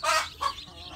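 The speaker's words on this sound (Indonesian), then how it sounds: "perkembangan anak ayam kampung dan bagaimana cara indukan ini" A free-range village mother hen with her chicks gives two short, fairly close clucking calls, followed by softer low fowl sounds.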